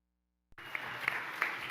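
An indoor event audience celebrating Kathy Hochul bursts into applause after a moment of silence, dense clapping that continues steadily to the end.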